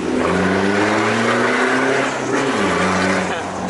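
A modified Toyota Innova family car revs hard, its loud engine climbing and falling through several rising pitch sweeps, close by and sustained.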